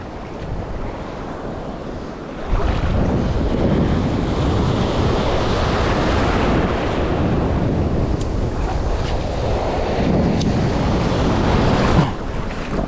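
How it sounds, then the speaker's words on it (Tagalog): Strong wind roars against the microphone over open water, with waves and surf churning steadily, the gusts growing louder after a few seconds. "Pakalakas na ng hangin."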